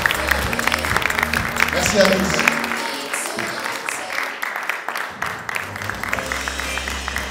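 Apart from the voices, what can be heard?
audience applause at a circus comedy show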